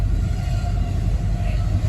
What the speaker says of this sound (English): So we're just waiting on the train to go by now.